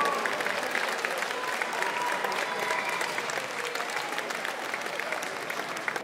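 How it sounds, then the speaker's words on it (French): Audience at a Téléthon evening show applauds steadily, a dense, even wash of clapping from a crowd that holds throughout and tapers slightly at the end. "On les applaudit bien fort"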